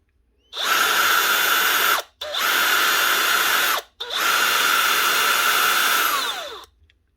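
A loud electric motor of a DeWalt DCP580 planer, running with its belt removed, whirs at a steady high pitch in three long bursts, each spinning up and cutting off abruptly, with brief silences between.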